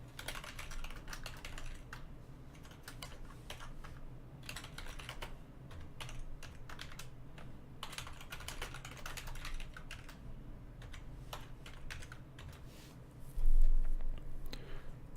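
Fingers type steadily on a computer keyboard while React code is written, a continuous close patter of key clicks with no talking.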